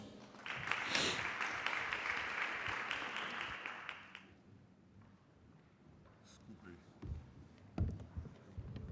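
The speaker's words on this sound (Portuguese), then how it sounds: "Uma salva de palmas, sim." Audience applause at a panel event on the judiciary and regulatory agencies, a burst of dense clapping for about four seconds that fades out, followed by quieter room noise and a few knocks, with a voice speaking over it.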